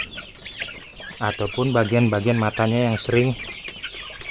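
Chickens in a coop cluck in a rapid run of loud, close, stuttering calls, with someone speaking over the flock before and after.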